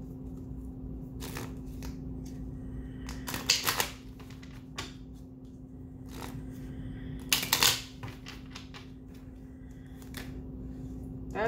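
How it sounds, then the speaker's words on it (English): Cards pulled and shuffled from a chakra card deck, heard as a few brief papery riffles and flicks, two louder bursts among soft handling noises over a steady low hum, with no talking. "I'm gonna grab a couple of cards out of this chakra deck."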